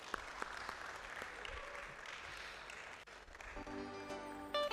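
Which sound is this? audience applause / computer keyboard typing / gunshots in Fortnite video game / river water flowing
audience applause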